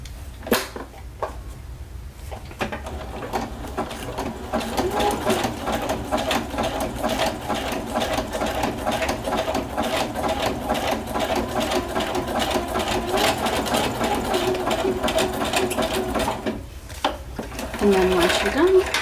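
A sewing machine runs a zigzag stitch to join snippets of washi tape, humming and clattering steadily and close for most of the stretch, with a short pause near the end and someone talking over it.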